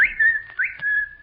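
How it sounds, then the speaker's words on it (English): On a 1944 radio broadcast, a person whistles a clear, high call to a dog: a sustained tone followed by two rising notes, heard alone and close. "I'll whistle for Kelowna"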